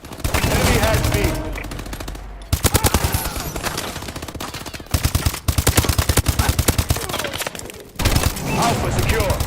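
Suppressed automatic weapons fire in a Call of Duty video game, long rapid bursts of muffled, clattering shots with brief gaps between strings, loud and dense, with some game voice sounds mixed in.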